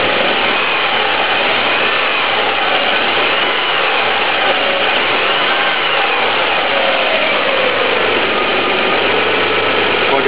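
Idling 3.2L V6 of a 1998 Honda Passport with one cylinder disconnected, a loud, close, steady engine drone with a faint uneven throb and slight pitch sag, no talking.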